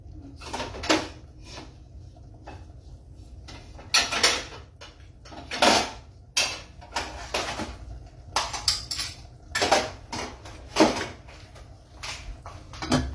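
A pot lid and cookware being handled in a kitchen, a run of irregular metallic clanks, scrapes and taps close by, some sharp and loud, others softer, without any talking.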